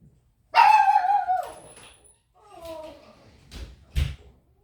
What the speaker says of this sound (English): they're making the dog bark